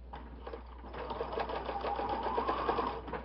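A sewing machine backstitches along a dish towel, giving a soft, steady mechanical whir with rapid needle ticking that runs continuously for a few seconds, fairly quiet and close.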